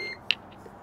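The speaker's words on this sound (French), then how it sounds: "J'ai ma caméra qui fait des bips et je sais pas pourquoi." A camera gives a single short, high electronic beep over quiet background, brief and fairly faint, with no talking.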